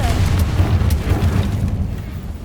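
A Confringo fire spell explodes in the video game Hogwarts Legacy, a deep booming blast followed by a rumbling decay with a few sharp cracks on top.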